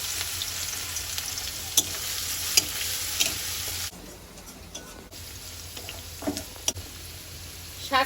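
Boiled garlic dropped into hot oil in a kadai sizzles steadily while a spatula scrapes and stirs, close and continuous, the frying hiss easing partway through before picking back up.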